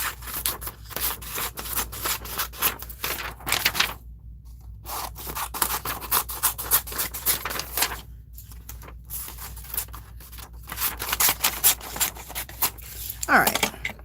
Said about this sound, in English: Let me get rid of the white edges really quick with my scissors.